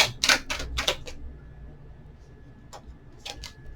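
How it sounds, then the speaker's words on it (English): Tarot cards are shuffled in quick crisp riffling bursts, a pause, then a few more short flicks and taps, close and fairly quiet. "One more shuffle."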